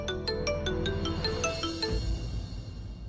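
A phone ringtone plays in a Hindi TV drama scene, a bright melodic chime repeating over a steady low hum for about two seconds before it cuts off, with no one speaking.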